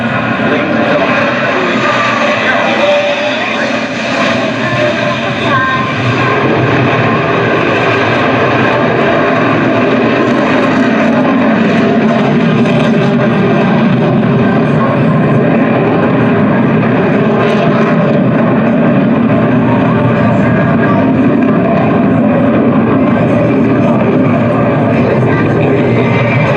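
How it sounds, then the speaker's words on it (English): Aircraft fly past at a military air show, a loud, steady engine roar filling the whole stretch with a slow swell. An announcer's voice is heard over the noise. "the two solo pilots are making their approach to the flight line."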